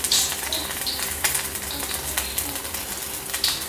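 Food frying on a hot tawa griddle, a close, steady crackling sizzle with sharper pops and spatters scattered throughout, moderately loud and without any talking.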